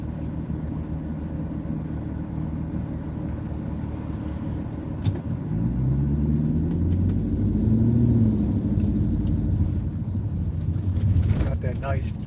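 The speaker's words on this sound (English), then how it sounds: "Got that nice natural dual exhaust on that." Low, steady exhaust rumble from a car said to have dual exhaust, likely near a Cadillac, swelling louder midway with a rising engine tone, under continuous in-car road noise.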